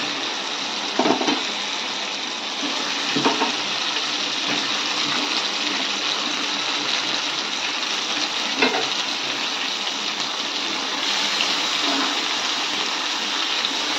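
Chicken pieces hit a hot pan of spiced oil and sizzle steadily for the whole stretch, with a few louder crackles and bursts as pieces land and settle, close and fairly loud with no talking.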